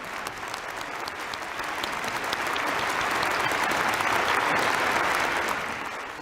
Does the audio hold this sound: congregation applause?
yes